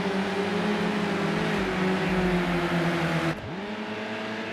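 Renault race car engines in Project Cars 2 drone loudly and steadily at high revs, then the pitch drops abruptly as the throttle lifts and the note settles lower; no voices.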